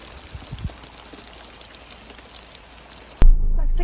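Heavy rain hisses steadily alongside a rushing runoff torrent at Blackdown Tablelands. It stops abruptly near the end and a louder, duller roar takes over.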